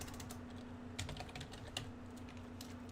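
Computer keyboard typed on steadily while coding a game, close and quiet clatter of rapid keystrokes with occasional louder taps over a low electrical hum.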